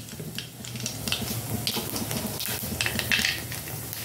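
Black cumin seeds and whole dried red chillies frying in hot oil in a wok, a steady soft crackling sizzle with faint scraping of a utensil against the pan, close and continuous with no talking.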